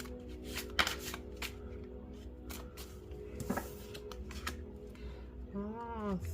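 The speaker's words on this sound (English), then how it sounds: "let's shuffle this deck, which I have not shuffled, but overhand shuffle seems like it'd probably be nice" A vintage tarot deck is shuffled overhand, with quiet, irregular papery riffles and soft card slaps, close and faint, and a brief murmur of speech near the end.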